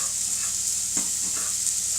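Chicken, shallots and garlic frying in a pan on a hob at setting four, heard as a steady, bright sizzle with a brief stir or scrape near the middle and no talk.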